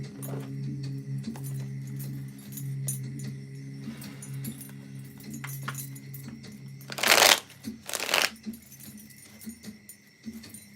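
Tarot cards being shuffled, two quick crisp riffling bursts near the end over a faint steady hum, close by.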